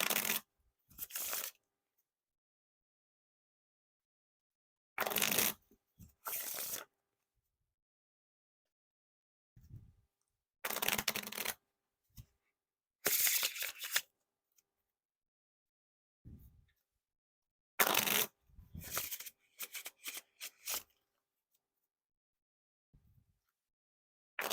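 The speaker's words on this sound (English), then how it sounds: "Now for the riffle shuffle or bridge shuffle." Bicycle Stained Glass Behemoth playing cards are riffle shuffled in repeated crisp bursts of rapid fluttering snaps, separated by near-silent pauses, recorded close and quiet.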